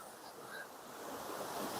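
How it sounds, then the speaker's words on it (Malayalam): Small stream-like waterfall between Munnar and Vattavada, heard as a faint, steady rush of flowing water that grows slightly louder, with no talk over it. "അരുവി പോലെ ഒരു വെള്ളച്ചാട്ടം ചെറുത്."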